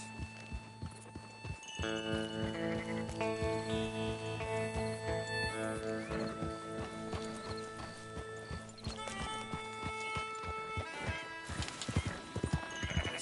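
Horses in Red Dead Redemption 2, including a Mustang, clip-clop steadily and close through most of the stretch, with a loud neigh and whinny over a bed of background game music.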